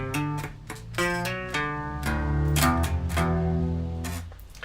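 Electric guitar plays one full bar of a riff, using down-strums and hammer-ons: choppy, rhythmic strummed chords ring loud and close with no talking.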